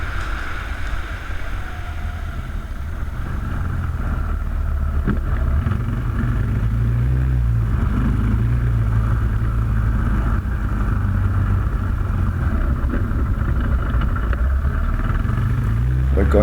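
A 2015 KTM 690 single-cylinder motorcycle riding up a small hill, its engine a steady, continuous low drone with wind and road rumble mixed in, close and fairly loud throughout.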